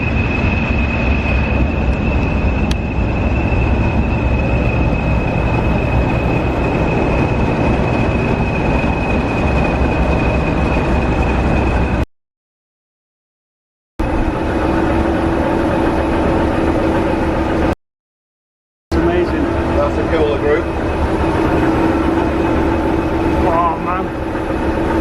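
A diesel locomotive named Andania, fitted with a replica of its original nameplate, runs with a loud steady engine drone and a high whine, broken by two short gaps of silence.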